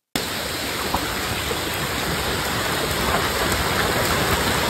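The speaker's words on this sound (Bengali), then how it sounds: "3 ঘন্টা ধরে বৃষ্টি" Heavy rain that has fallen for three hours and flooded the roads pours down in a loud, steady, even roar with no break.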